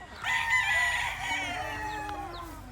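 A gamefowl rooster crows once, close and loud, with a long drawn-out cock-a-doodle-doo that trails off over a few seconds.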